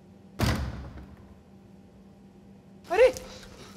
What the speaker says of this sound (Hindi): दरवाजा बंद कर दरवाजा बंद कर